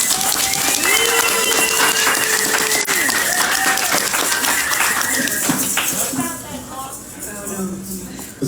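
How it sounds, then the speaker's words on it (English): Audience at a Denver literary jamboree applauding and cheering for a poet, a loud sustained roar of clapping with whoops and voices mixed in, easing off toward the end. "give the biggest round of applause"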